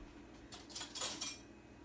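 A teaspoon lifted from a set of cutlery in a home kitchen gives a brief metallic clink and jangle, a short cluster of light clatter standing alone without speech.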